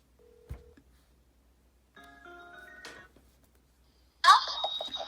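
A short beep, then a run of electronic phone dialing tones, followed by a louder warbling ring tone, all close and clear against silence.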